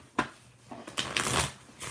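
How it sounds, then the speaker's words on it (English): Tarot cards are shuffled by hand in quick riffling bursts, close and clear, with brief pauses between passes during a live card reading. "I'm going to shuffle some more and do a reading, baby."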